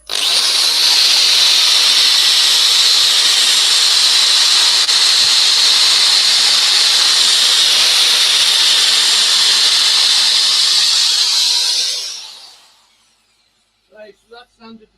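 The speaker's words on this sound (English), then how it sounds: "So I'll go back to using the power sander." A power sander works a wood-turned bowl with a loud, steady, high hiss that runs for about twelve seconds, then winds down to silence before a few brief quiet sounds.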